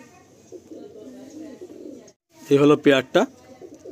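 A pair of Chatiyal pigeons, the female in front and the male behind, give a few short, loud coo bursts up close, just after someone speaks briefly.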